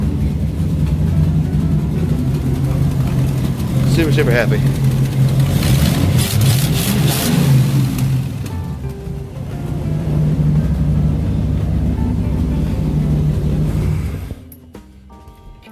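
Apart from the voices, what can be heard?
car engine starting and running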